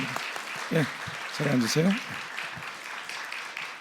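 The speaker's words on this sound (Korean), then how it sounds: "우리 박수, 격려의 박수 보내드리겠습니다." A church congregation at a Korean training-opening worship service gives brief applause of encouragement, a short burst of clapping heard partly under a speaker's voice as the clapping fades.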